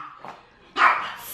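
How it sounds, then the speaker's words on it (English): A dog barks at its food just before eating, a faint short yip followed by one louder, close, sharp bark, with no talking. "He's barking at his food because he's about to eat it."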